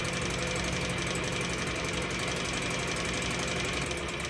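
A vintage Mercury two-stroke outboard motor idles steadily, a continuous close buzzing drone with a fine rapid knocking texture and no pauses.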